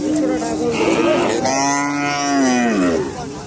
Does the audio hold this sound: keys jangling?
no